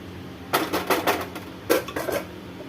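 A spoon scrapes and knocks around a metal pot of pepper curry in short bursts of clinking and scraping, two clusters separated by a pause, fairly close.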